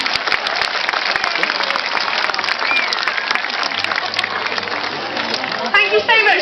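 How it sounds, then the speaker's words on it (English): A zoo audience at a sea lion show gives a loud, sustained round of applause, with many hands clapping densely and continuously, and voices briefly break through near the end. "And a huge round of applause."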